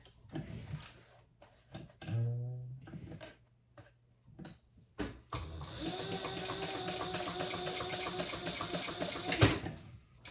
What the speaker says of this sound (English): we're going to sew across the bottom there